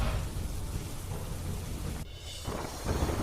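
Heavy rain falling in Surat, a steady loud roar of downpour with a brief dip midway before the rush resumes, no voices.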